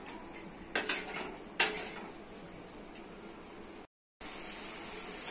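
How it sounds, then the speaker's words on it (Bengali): Dried shrimp sautéed with ground cucumber paste in a pan, with metal utensil scrapes and clinks against the cookware, a couple of sharper knocks early on, and a faint hiss underneath. "শসা বাটা চিংড়ি শুটকির সাথে ভালো করে কষে দিতে হবে"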